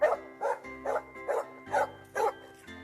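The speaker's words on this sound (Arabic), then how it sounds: "كلب." A dog barks six times in an even, moderately paced series, each bark short and close, clear and alone with no other sounds.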